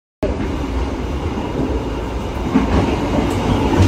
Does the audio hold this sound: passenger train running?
yes